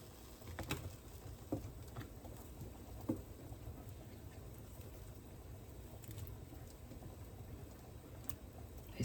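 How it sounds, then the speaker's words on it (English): Heavy rain pours down outside a home kitchen, a steady soft patter and hiss that runs quietly and evenly throughout with scattered light taps, no voices. "Doggone if it ain't pouring down raining now."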